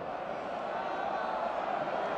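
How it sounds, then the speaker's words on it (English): Stadium crowd at a college football game between San Diego State and Washington, a broad, steady distant roar of many voices, likely chanting, holding level throughout. "Crowd chanting go"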